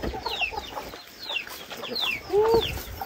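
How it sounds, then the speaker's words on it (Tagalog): Chickens in a rural forest clearing cluck and squawk in short, scattered calls at moderate distance, with a louder call near the end and some quiet background noise. "Yan yung mga manok to."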